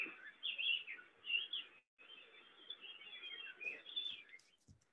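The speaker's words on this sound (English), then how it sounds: "You have an island that used to sound like this, full of bird song." Dense bird song recorded in a forest on Saipan, many birds chirping and trilling together continuously, moderately loud, with a brief pause near the middle and no voices.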